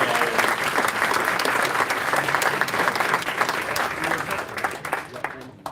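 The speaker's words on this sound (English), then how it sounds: "can we have another special round of applause for Ken's for sorting out the questions" An audience at a live retro gaming event Q&A with musicians gives a round of applause, thick sustained clapping that fades toward the end, with voices talking over it.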